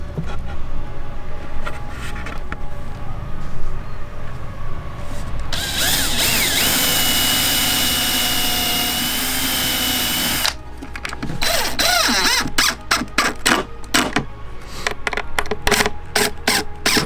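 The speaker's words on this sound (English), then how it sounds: "We're going to pilot bore these holes with an 1/8" drill bit just to make sure that it doesn't split out" An electric drill bores pilot holes with an eighth-inch bit into soft wood for a duck nesting box: steady close whirring, then a louder high-speed grinding burst, followed by rapid stuttering stop-start pulses.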